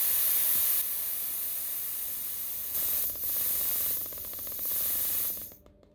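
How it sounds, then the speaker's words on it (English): Air hisses out of a motorcycle tyre valve in close, loud bursts, steady at first and then pulsing in short releases before cutting off. "Okay, so just letting a little bit of air out of the valve."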